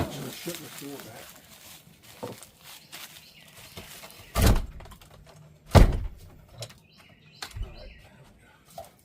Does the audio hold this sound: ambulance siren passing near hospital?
no